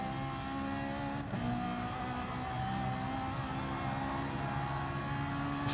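Ferrari and Honda race cars in a racing video game at the Nürburgring 24-hour circuit whine steadily at high revs, a close, continuous engine drone with no speech over it.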